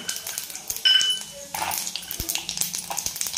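Raw peanuts dropped into hot oil with cumin seeds, crackling and sizzling with clinks of a spoon against the pan, busy and fairly close.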